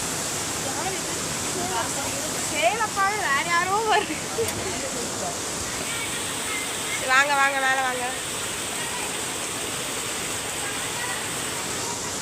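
Heavy rain pouring steadily outside a house, a constant dense hiss throughout, with people talking and calling out over it in two short stretches.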